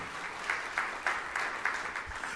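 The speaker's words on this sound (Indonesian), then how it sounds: "Tepuk tangan yang meriah untuk kemuliaan nama Tuhan." Applause from a church congregation during a sermon, steady mid-distance clapping from many hands with soft rhythmic swells, no voices over it.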